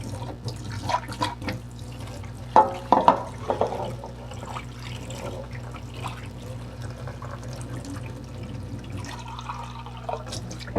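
Extra water for home-made bread dough is poured and dribbles into a container in a kitchen, with soft splashes and drips, a brief louder burst of pouring, and low background hum throughout.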